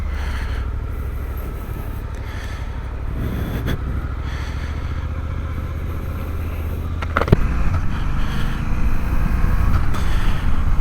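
Suzuki 800 DE trail motorcycle engine heard while riding, a steady low rumble with wind noise throughout, getting louder near the end.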